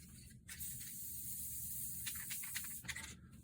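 Aerosol spray can sprayed outdoors in the woods, a steady hiss running for most of the clip with a few short extra bursts near the end.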